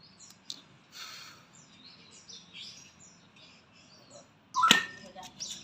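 Caged magpie robin (murai) songbird: soft, scattered chirps and whistles that end in one loud, close call near the end, set against a quiet room background.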